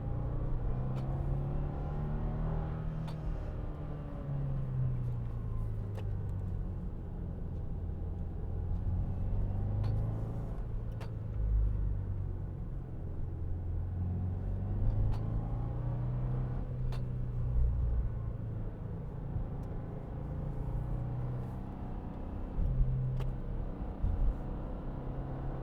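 A car engine drones steadily in third gear while climbing a mountain pass, with a low, continuous rumble and slight rises in pitch as the load changes, heard from inside the vehicle throughout.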